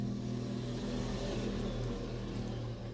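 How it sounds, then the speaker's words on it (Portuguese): A motorcycle passes close by, its engine droning steadily and revving slightly for a few seconds, loud against a quiet room. "Passar a moto."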